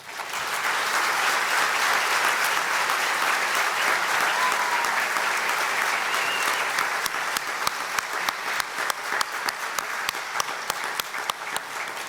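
A large audience at a tribal chief's oath of office ceremony applauds soldiers in a dense, sustained ovation that gradually thins into scattered separate claps near the end.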